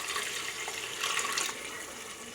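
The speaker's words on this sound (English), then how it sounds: "So for that we're gonna add water." Water pours steadily into a cooking pot in a home kitchen, a close, continuous hissing splash with a slightly louder surge midway, heard alone.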